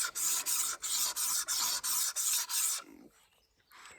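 An obsidian arrowhead is ground flat against an abrasive surface in a steady run of about seven loud rasping back-and-forth strokes, close up, then a few softer scrapes before it trails off.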